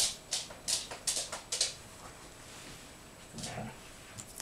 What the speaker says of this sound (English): You can hear the doggies again.